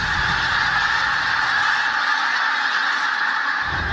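Pink-footed geese on migration honk in a steady, dense chorus, loud and continuous throughout, with no voices over it.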